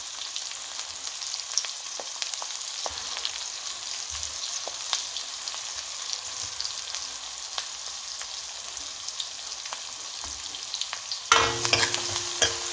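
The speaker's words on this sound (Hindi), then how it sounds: "तेल अच्छे से हो गया तो मैंने डाल दिया इसमें प्याज, हरी मिर्च और लहसुन।" Onion, green chili and garlic frying in hot oil with cumin, a steady close sizzle and crackle throughout, with occasional stirring clinks and a brief louder scrape near the end, no talking.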